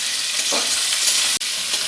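Potatoes frying with turmeric and salt are stirred in a hot pan, a continuous close sizzle broken by light scraping and one brief sharp knock.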